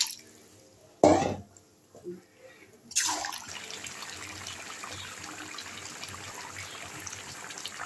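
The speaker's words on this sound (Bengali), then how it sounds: "এর মধ্যে আমি এখন জল দিয়ে দিলাম।" Water poured into a pan of spicy red chicken curry: a short splashing burst, then after a pause a louder pour that settles into a steady, close simmering hiss.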